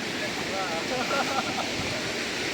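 River water at Lata Pongsu waterfall area in Sungkai, a steady broadband rush of flowing water close by, with a faint voice briefly in the background.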